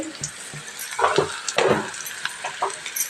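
Onions fry in a pan on a home stove, giving a steady sizzle broken by scraping, clinking stirs and a few louder bursts of spattering near the middle.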